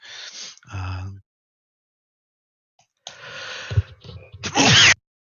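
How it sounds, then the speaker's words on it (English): A sharp sneeze bursts out near the end after a pause, preceded by a gasping breath and brief vocal sounds; loud and close. "I think you guys got half of that sneeze"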